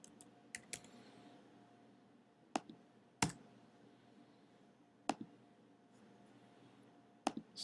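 Sparse keystrokes on a computer keyboard in a quiet room, a few isolated clicks spread out with soft low hum between them, no talking.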